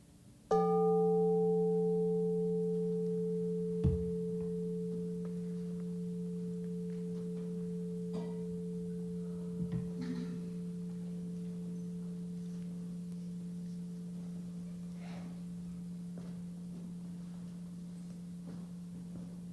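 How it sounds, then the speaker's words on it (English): A single meditation bell struck once, its clear sustained tones ringing out and slowly fading over many seconds, with faint room noises underneath. "So here's the sound of the bell."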